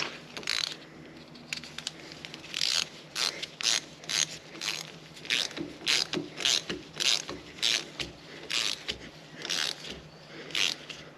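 A ratchet clicks in rapid bursts while tightening nuts and bolts on the differential of a Fiat Panda 4x4 MK2, a steady close rhythm of short ratcheting strokes with no talk.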